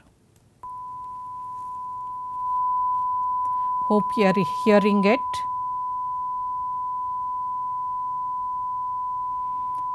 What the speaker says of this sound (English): sine wave which is generated at 48 kilohertz